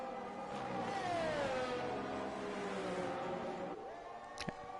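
A Formula 1 car engine in a racing video game at the Spanish Grand Prix, a high whining note that climbs and dips through gear changes, steady and moderately loud with no talk.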